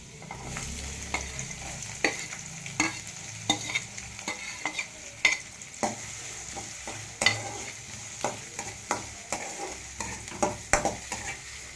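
Small onions fry in a pan with ginger and garlic, a continuous close sizzle under repeated sharp scrapes and taps of a spatula stirring at an uneven rhythm, with no voices.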